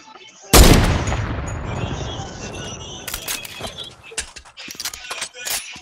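A sniper rifle fires once in a video game, a sharp loud blast with a long rumbling decay, followed by scattered fainter shots and clicks.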